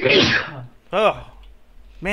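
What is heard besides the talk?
sneeze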